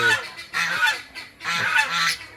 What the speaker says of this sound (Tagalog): ito yung ating isang alagang pabo